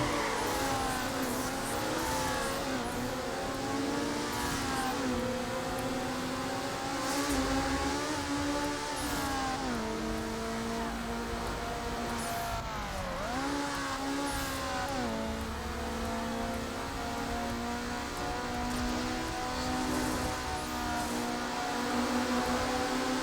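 In the Need For Speed Underground racing game, a car accelerates hard, its engine note climbing and dropping through gear shifts in a sustained, moderately quiet whining roar with no talking over it.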